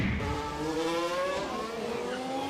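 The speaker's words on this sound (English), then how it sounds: "Leclerc locks up, goes through the chicane." A Formula 1 race car brakes hard and locks up going into the chicane during a race in Italy, its engine whining through falling pitch sweeps as it slows, heard fairly faint and distant for a couple of seconds.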